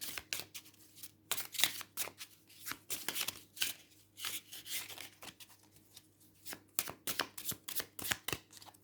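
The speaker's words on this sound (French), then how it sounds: "je vais vous tirer une carte en plus" Tarot cards from a Trinity Tarot deck shuffled and drawn by hand, a close run of crisp riffling and sliding bursts with short pauses between them.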